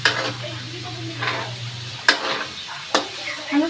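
Food frying in a pan is stirred, a sizzling hiss broken by three or four sharp scraping knocks of the utensil against the pan at uneven intervals, close and with no talk.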